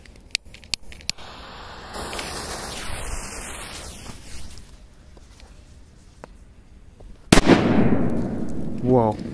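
A Crazy Robots firecracker goes off outdoors at night: scattered small pops, then one sudden loud, close bang followed by a crackling, fizzing tail and a brief rising whistle-like burst.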